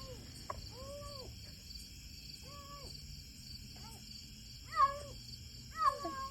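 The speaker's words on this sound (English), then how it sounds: "He's meowing at me" A small stray kitten meows outdoors in a run of short, high, arching cries. Several come at a moderate level, and the last two are louder and sharper, over a steady background hum.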